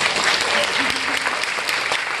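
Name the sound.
audience applause at business presentation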